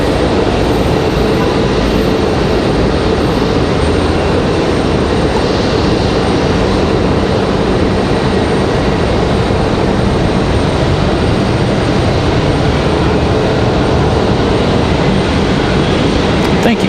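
An Airbus A320-200 airliner arriving at Raleigh-Durham from JFK, New York, a loud, steady, broadband roar close by that holds for the whole stretch with little change.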